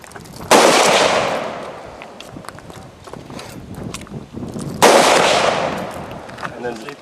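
Two loud shotgun blasts fired into paintings, each a sharp broadband crack trailing off over a few seconds, about four seconds apart, with a brief metallic rattle of the action after the second.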